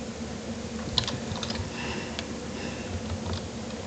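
Fingers tapping out a chat message on a computer keyboard, quick irregular clicks, close and fairly quiet over a constant background hum.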